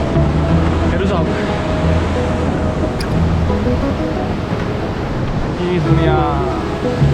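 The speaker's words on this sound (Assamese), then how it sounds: "মন্দাকিনী নদী এনেকৈ বৈ আহিছে" The Mandakini river rushes steadily below Kedarnath, a constant broadband roar of flowing mountain water with wind, heard close and loud under a brief exclamation from a voice.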